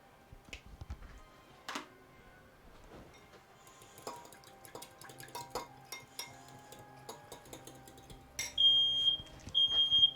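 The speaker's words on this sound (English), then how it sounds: "my air fryer went off" An air fryer alarm sounds in a kitchen: a loud, shrill series of repeated high beeps near the end, following quieter clinks of dishes and cutlery.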